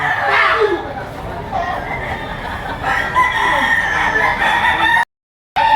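Roosters crow repeatedly at an outdoor chicken market in Lipa, Batangas, their loud calls layered over clucking and a busy murmur of voices, with a brief gap of silence near the end.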